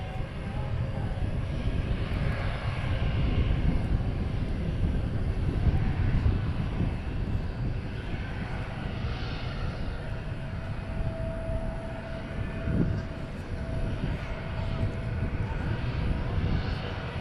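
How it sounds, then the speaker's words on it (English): A Volaris Airbus A320 bound for Mexico City rolls for a turn-and-burn takeoff at DFW airport, a steady, broad jet-engine roar that swells slightly and holds throughout from some distance away. "turn and burn for Volaris going to Mexico City on a regular A320 as soon as it gets to the runway right here"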